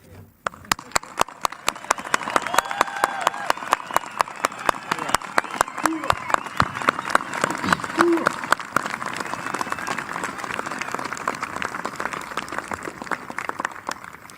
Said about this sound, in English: I think we all can use the loudness of our applause to let her know exactly how much her design, this memorial,